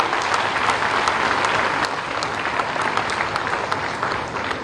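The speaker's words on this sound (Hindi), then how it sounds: "जोरदार तालियां बजती रहनी चाहिए।" Loud, sustained applause from a large audience at a government medical college event in Gorakhpur, steady dense clapping filling the whole stretch without speech.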